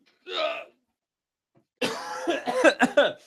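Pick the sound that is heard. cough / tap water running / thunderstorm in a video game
cough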